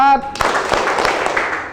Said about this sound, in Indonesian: Kita mulai tepuk 2, tepuk 1, tepuk 4